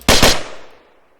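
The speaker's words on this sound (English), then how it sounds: "you have the same feature where you could pop out of your cupola and shoot" Gunfire from a tank cupola in the IFA3WarModSA video game mod: two rapid, loud shots close together, followed by a short reverberant tail that fades out over about a second.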